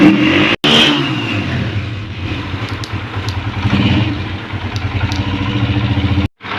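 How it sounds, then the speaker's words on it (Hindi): Honda CG 125 motorcycle engine idling with a misfire, a steady close rumble with uneven, stumbling pulses and a couple of abrupt brief dropouts, no talking. "बाइक को मैंने स्टार्ट कर दिया है। अब ये जो है दोस्तों एक मिसिंग टाइप आ रही है"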